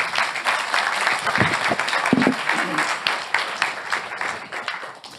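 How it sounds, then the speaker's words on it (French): Applause from a conference audience for two departing panel speakers at a round-table on responsible business, steady clapping that tapers off toward the end, with some voices faintly underneath. "Je pense qu'on peut vous applaudir."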